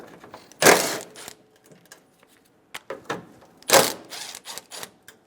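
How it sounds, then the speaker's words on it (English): A 10mm socket ratchet loosening grille bolts on a 2005-2015 Toyota Tacoma, heard as two loud, close bursts of rapid ratchet clicking separated by scattered small taps and metallic handling sounds. "Using a 10mm socket, remove the 2 bolts for the grille."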